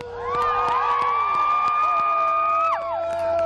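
Crowd cheering and whooping at the debut of the holiday train at St. Paul Union Depot, a loud sustained roar with sharp claps and shouts throughout and high, whistle-like tones that swell and fade.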